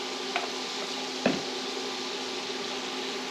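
Minced fresh garlic sizzling in melted butter in a pan, a steady soft frying hiss throughout with a couple of faint stirring knocks.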